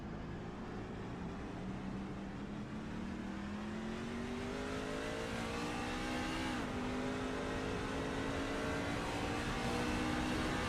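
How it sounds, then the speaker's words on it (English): Race truck engine in a sim racing game at Sonoma Raceway, droning steadily with rising and falling pitch as the throttle is fed in gently, with other trucks' engines layered underneath, loud and continuous throughout. "You can still hear how gentle he has to be on this throttle."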